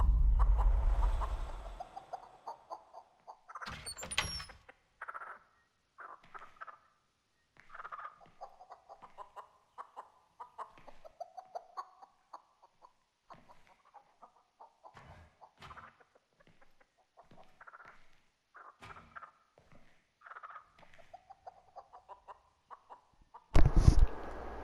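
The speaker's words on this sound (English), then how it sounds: "used real chickens for the audio for Nugget" Real chickens clucking, used as the voice of a cartoon chicken character, come in scattered short bursts at moderate level, with louder thumps near the start and end.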